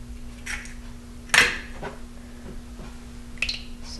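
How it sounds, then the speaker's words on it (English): An egg is cracked into a measuring cup while making whole wheat hamburger and hot dog buns. One sharp knock stands out, followed by a few faint clinks of shell and glass over a low steady hum. "I'm just gonna crack it in this measuring cup so I can fish out any eggshells"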